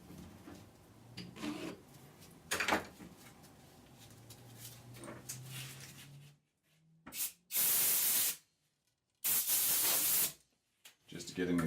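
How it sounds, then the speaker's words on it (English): Bursts of compressed air hiss loudly from an air gun blowing metal chips off strut jam nuts during an ORI STX strut rebuild, three strong blasts with short gaps after some quieter workshop handling. "carefully blow those off with the air gun"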